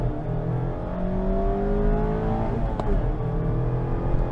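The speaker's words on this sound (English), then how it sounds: "The sound of the engine, the stopping and the starting of the 6-speed manual" A 2021 Mazda MX-5 RF Club with a 6-speed manual accelerates, its engine droning steadily with rising and shifting tones through the gears, loud and continuous from inside the car.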